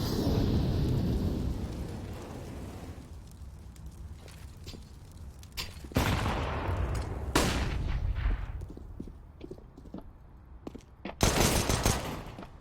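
Pistol shots in a Counter-Strike match on Overpass, a handful of sharp, separate cracks spread irregularly over a murky game background, some loud and close, others fainter.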